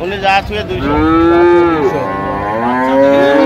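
A dairy cow at the Ambari cattle market in Dinajpur gives a loud, close, drawn-out moo that swells and lingers, with faint market noise beneath.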